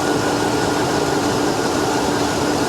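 A GMC Envoy XUV with a 5.3 V8 idles roughly with accessory noise, heard as a loud, steady, dense mechanical whir and rumble close to the engine, with no talk over it.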